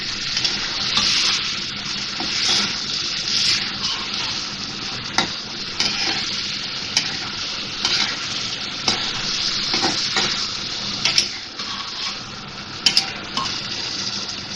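Tomatoes being stirred into a sizzling chicken curry in a pan, giving steady frying sizzle with intermittent scraping and clinks from the spoon against the pan, close and with no talking.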